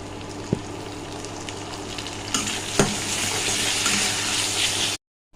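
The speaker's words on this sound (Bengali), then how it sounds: "পেঁয়াজ আর টমেটোটা ভাজা ভাজা হয়ে এসছে" Onion and chopped tomatoes frying in a pan over a cumin tempering make a loud, continuous close sizzle with a couple of sharper stirring knocks. The sizzle swells louder midway and then cuts off abruptly near the end.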